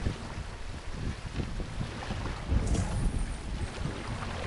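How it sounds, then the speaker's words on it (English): A sailing ship catches the wind in Assassin's Creed Valhalla, with steady gusting wind and rushing water and waves swelling and fading around the hull, heard alone without talk. "Sail! Catch the wind!"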